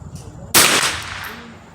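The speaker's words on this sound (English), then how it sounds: "I'm gonna be taking 3 shots at the left upper target" A single sharp crack from a .22 LR Remington 597 semi-auto rifle fired at a target 25 yards away, loud and close, followed by a short decaying tail over quiet outdoor ambience.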